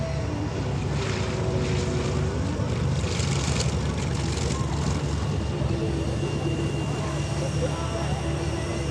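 Steady engine and propeller drone from the Trojan Thunder aircraft landing at EAA AirVenture, a continuous mid-distance roar with a slight swell partway through and faint talk over a radio mixed in.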